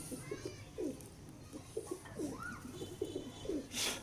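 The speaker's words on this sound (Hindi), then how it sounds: "आप देख सकते हैं, बड़ा शानदार कबूतर है।" A Teddy breed pigeon coos close by in soft, repeated rolling phrases with brief pauses between them, over quiet room noise.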